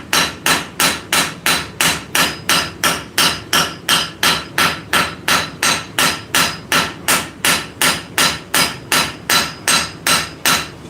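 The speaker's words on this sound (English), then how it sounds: "let's switch actually back to the fat peen" A fat peen hammer forges hot metal on an anvil in a workshop, about thirty sharp, loud ringing blows struck in a fast, even rhythm close by, with no talk.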